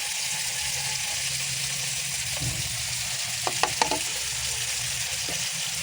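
Ginger, tomato and green chilli fry in a pan for a tilapia curry while being stirred. A steady, soft sizzle runs throughout, with a few light utensil clinks near the end.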